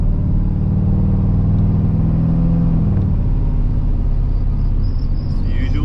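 Square-body Chevrolet Suburban shop truck cruising at the speed limit, a steady low engine drone and road rumble filling the cabin continuously, with no talk.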